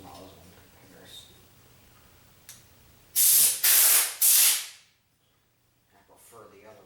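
Three loud, sharp blasts of compressed air from a spray nozzle blowing dust out of a 2004 gaming computer, each burst about a second long, with quiet room noise and faint talk before and after.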